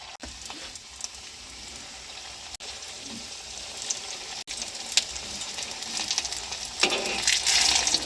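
Snacks made of flour, egg and potato fry in hot oil in a pan, giving a steady, close sizzling hiss that builds in intensity over several seconds with no talking.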